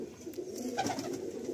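Pigeons coo softly in a loft, a low, faint, repeated cooing over steady background hum, with no voices.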